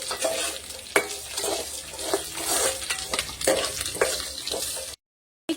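Green chilies frying in oil with a busy sizzle and irregular stirring scrapes, close up, before the sound cuts out abruptly near the end.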